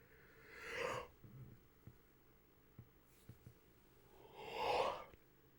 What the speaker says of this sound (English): but first I'm gonna yawn again.